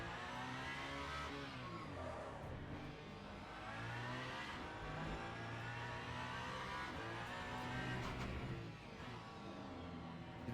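Race car engine in the Le Mans Ultimate racing game, played in VR, droning and revving continuously at high pitch with shifting harmonics through the whole stretch, loud and steady, no voices.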